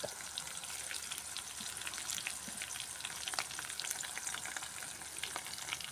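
Curry leaves crackle in hot oil with a faint, even sizzle and scattered tiny pops, heard alone at low level.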